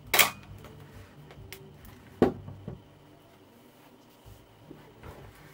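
A Pentax Spotmatic SP film camera shutter fires with a sharp mechanical click, followed by a second crisp snap a couple of seconds later, both close and distinct against near silence.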